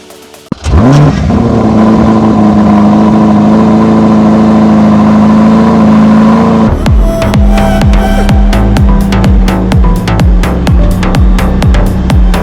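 A Ferrari Amalfi's engine fires up close by and idles in a steady drone, then the car pulls away with a loud, rising, pulsing engine note through quick gear changes, with no voices.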